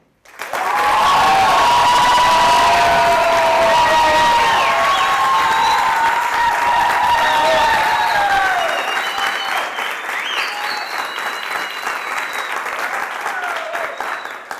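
A theatre audience applauds loudly and steadily for about fourteen seconds, a dense continuous wash of clapping with light cheers that eases slightly toward the end.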